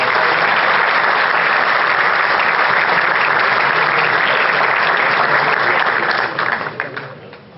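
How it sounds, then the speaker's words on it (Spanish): Loud, sustained applause from an audience at an agricultural insurance conference panel, holding steady for several seconds before tapering off at the end. "Un fuerte aplauso,"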